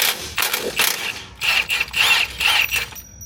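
Impact gun on a through bolt of a 2025 Toyota Tundra TRD, several short, loud rattling bursts in quick succession with brief gaps, close up.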